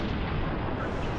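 A sniper rifle fires in Halo Reach multiplayer on PC, a loud, dense boom that fills the whole moment with sustained rumbling blast noise and no voices over it.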